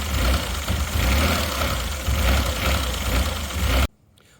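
A Mazda Bongo 2.5 V6 engine runs rough with an uneven, lumpy idle, loud and close, for nearly four seconds before cutting off abruptly into quiet.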